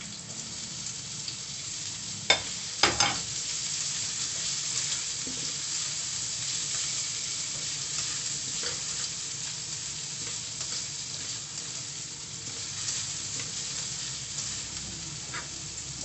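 Onions sizzle in a pan for a mackerel curry with coconut milk, a soft continuous hiss heard close, broken by a few sharp knocks of a utensil early on, with no talk.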